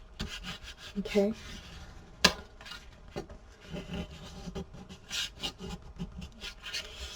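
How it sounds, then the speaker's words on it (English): Paper layers of a mini album being burnished together: soft, irregular rubbing and scraping strokes close by, with one sharp tap partway through and a brief spoken word near the start. "So you want to just burnish everything down together"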